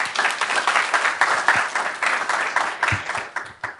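An audience applauds to welcome John Halstead, a speaker on climate change philanthropy, with steady dense clapping that carries on for several seconds before fading slightly at the end.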